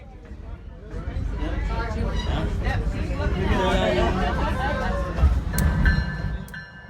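A train rolls past in front of a house on a street, a steady loud rumble that swells and fades, with a few high squeals near the end and crowd chatter mixed in.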